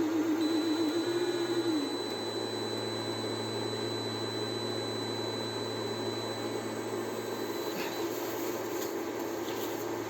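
A DRIVAK EW002 cordless impact wrench, rated 600 N·m, runs slowly during a torque test, giving a steady continuous motor whir with a brief higher tone at the start and no talking.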